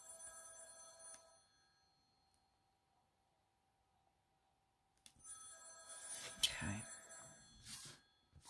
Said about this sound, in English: Of course, there's the phone.